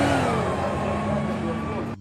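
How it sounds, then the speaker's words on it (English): A 1995 Ford Thunderbird SC's supercharged engine hums and revs steadily at close range, with a clear tonal whine and a few rising pitch sweeps, cutting off abruptly at the end. "Number 4, 1995 Ford Thunderbird SC."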